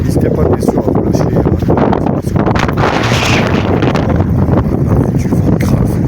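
Strong wind buffets the microphone of a Blackview A80 Pro phone, a continuous loud roaring rumble with gusty low-frequency thumps, steady throughout with no clear voices.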